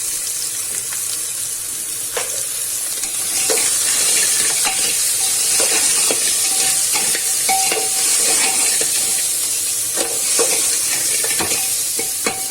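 Crab soup masala being stirred in a pan as it fries dry, with a steady close sizzle and scraping spoon strokes throughout, no voices.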